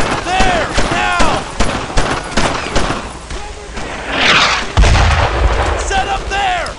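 Rifle fire and artillery booms in the World War II shooter Brothers in Arms, set at Hill 30, France, 1944, with sharp repeated gunshots and a heavy blast midway, while soldiers shout orders over the combat.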